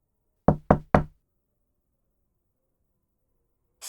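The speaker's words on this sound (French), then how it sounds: "L'hôtesse se dirige alors vers l'arrière de la cabine et frappe doucement" Three quick, firm knocks on an airplane toilet door, evenly spaced and close, followed by a long silence.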